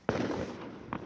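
A single muffled boom of New Year's fireworks bursts, followed by a rumbling crackle, then a second smaller pop a moment later, heard from a distance.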